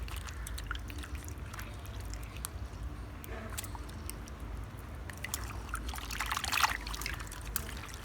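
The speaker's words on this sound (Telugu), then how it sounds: "ఇదిగోండి ఇంకొక అర గ్లాస్ పోస్తున్నాను," Half a glass of water pouring into Andhra-style dal soup (pappu charu), a faint, continuous trickle that swells into a brief louder splash toward the end, with no voices.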